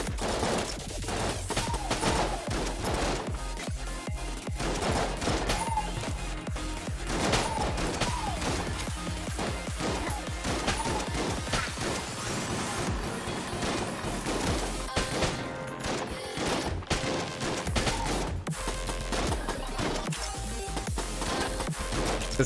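Rapid, chaotic gunfire from a weapon in the video game Enter the Gungeon during a rainbow run, dense continuous shots and impacts layered with game music, loud and unbroken throughout.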